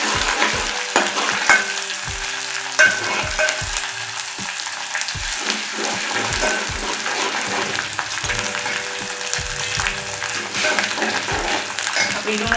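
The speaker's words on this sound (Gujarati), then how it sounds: "ડુંગળી હવે સતળાઈ ગઈ છે બરાબર।" Onion sautéing in a pan gives a steady sizzle and repeated spatula scrapes and knocks as it is stirred, close and fairly loud throughout.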